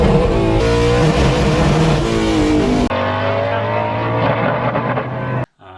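A Chevrolet C10 truck at an autocross event, its engine spinning to 7,500 rpm and bouncing off the rev limiter, loud and close, with rising harmonic revs, a sharp cut, then more sustained high revving before an abrupt stop.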